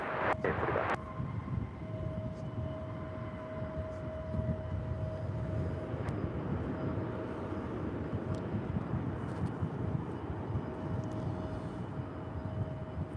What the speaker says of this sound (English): That was American Airlines flight 2203 coming in from Minneapolis, 737-800.